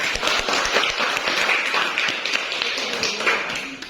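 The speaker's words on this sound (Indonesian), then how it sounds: "Kita berikan tepuk tangan." A classroom full of students clapping together after a group presentation, brisk and fairly close, holding steady for a few seconds before easing off.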